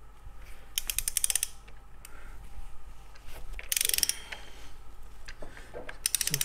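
A torque wrench ratchets in quick clicking bursts while tightening the clutch on a Triumph Bonneville to 77 foot-pounds, several close, crisp runs of pawl clicks separated by short pauses, with no talking.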